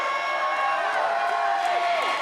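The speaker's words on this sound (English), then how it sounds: "they are cheering for Cody Manning going up to the top rope" Wrestling crowd cheering as a wrestler climbs to the top rope, a loud, sustained roar that fills the room with no pause.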